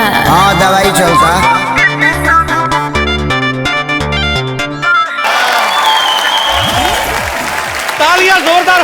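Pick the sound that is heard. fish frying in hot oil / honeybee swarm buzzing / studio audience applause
studio audience applause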